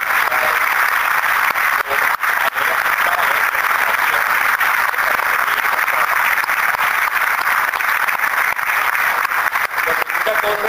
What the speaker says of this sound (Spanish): Yo quiero que el auditorio les dé un aplauso a todas.